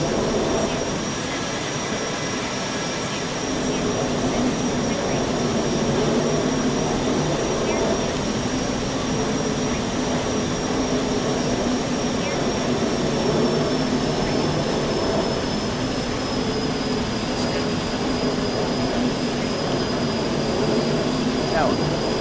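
Boeing 737-800 jet engines at takeoff thrust in a flight simulator game: a steady, loud roar with a high whine running through it, continuous for the whole clip, with radio chatter heard now and then.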